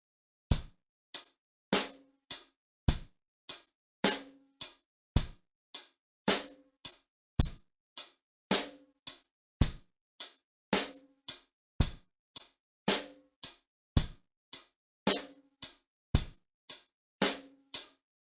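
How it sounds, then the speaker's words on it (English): A beginner drum beat with steady eighth notes on the hi-hat, a quick even stream of crisp ticks at roughly two per second, and periodic deeper bass drum thumps underneath, close and dry with no voices. "you can go ahead and start playing what we call eighth notes on the hi-hat."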